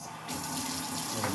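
Water from a kitchen tap bursts on and runs in a steady, continuous gush to be added to spaghetti, close by and alone.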